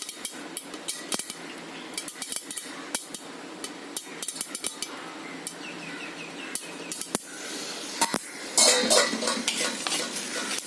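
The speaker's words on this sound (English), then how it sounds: "The sesame seed, I'll just close the lid. Otherwise it will splutter everywhere." Sesame seeds roast in a covered pan for idli podi, crackling and spluttering in a steady stream of small pops, with frequent metallic clinks and scrapes from stirring and the lid.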